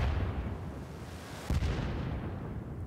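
A single heavy gunshot booms in the Wolfenstein video game, a sharp burst with a rolling tail, set against a low, constant rumbling game ambience.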